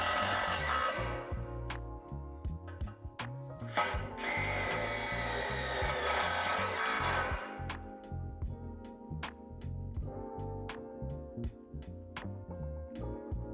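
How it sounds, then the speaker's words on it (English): A power drill drives self-tapping screws through the metal of portable basketball poles, a close whirring motor with rising strain and sharp clicks, steady throughout and without talk. "we're going to secure the poles together by inserting a self-tapping screw into the other small holes on the bottom of the poles"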